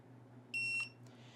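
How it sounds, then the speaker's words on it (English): One short, clear electronic beep from an RV tire pressure monitoring display, sharp and high-pitched, sounding alone against a quiet background hum. "press and hold the set button until it beeps"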